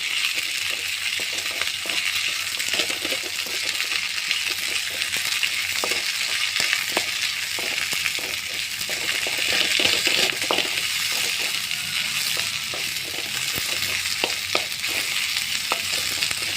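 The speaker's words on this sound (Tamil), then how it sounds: "நல்லா எண்ணெயில் நல்லா வதக்கிக்கோங்க. முட்டைக்கோஸை நல்லா வதங்கணும்." Cabbage for chutney sautés in oil in a pan with a steady close sizzle, broken throughout by sharp metallic clinks and scrapes of a stirring spoon against the pan.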